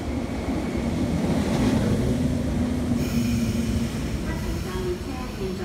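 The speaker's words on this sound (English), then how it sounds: "train is passing through the station" A non-passenger MTR East Rail line train, MLR stock E74/E83, runs through Sheung Shui station with a loud, steady rushing rumble for several seconds, while faint voices may sit under the noise.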